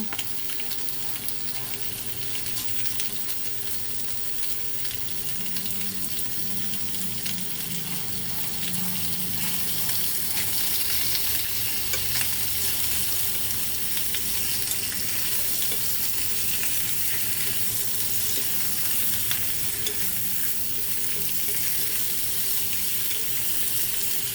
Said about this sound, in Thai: ผัดให้แบบสีเหลือง